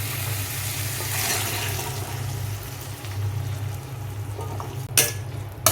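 Onion and tomato sauté with cooked chickpeas in a pan for chana masala, giving a steady, close sizzling hiss over a low hum, with a couple of sharp stirring scrapes near the end.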